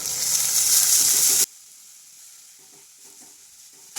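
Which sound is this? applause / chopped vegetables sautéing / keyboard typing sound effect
chopped vegetables sautéing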